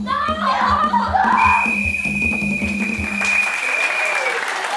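Audience at a French improv theatre final applauding performers, loud continuous clapping from a crowd with brief voices and chuckles at the start, the applause sustained throughout.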